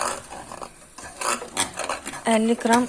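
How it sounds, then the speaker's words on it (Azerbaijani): A spoon stirs saray tatlısı dessert mixture with oil and vanilla in a bowl, giving close scraping and clinking strokes in an uneven rhythm, with a voice briefly heard near the end. "Nəzim bayaqdan qarışdırır."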